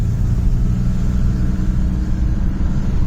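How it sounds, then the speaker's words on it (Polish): A Mercedes C124 320CE coupe idles steadily as it warms up, its low, even engine rumble running loud and close throughout with no voices. "zrobię małą rundkę, żeby się rozgrzał silnik"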